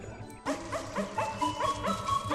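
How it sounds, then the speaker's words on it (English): Dog barks and yips set against flute music in a film score, repeated rhythmic barking woven through a steady sustained melody. "It's using the dog sounds with flute music."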